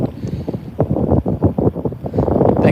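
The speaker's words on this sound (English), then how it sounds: "it hasn't quite been this windy" Wind gusts buffet a microphone on a small fishing boat out on a lake, a rough, rumbling low roar that surges and fades in irregular pulses throughout, with no talk over it.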